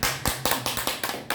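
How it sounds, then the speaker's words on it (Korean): Church congregation clapping in worship, a quick series of loud, sharp claps in a steady rhythm with slight unevenness, close by and without talk. "우리 하나님께 영광의 박수를"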